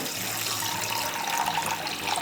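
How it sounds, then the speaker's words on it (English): Tap water filling a glass centerpiece vase on a table, a continuous close-up splashing, bubbling pour with no voices over it. "let's fill her with water"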